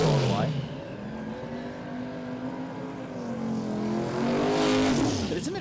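A Hemi and a Coyote drag racing engine roar at Willowbank Raceway during Saturday radial racing, one loud sustained engine note holding and then rising as it nears, with commentary voices over it.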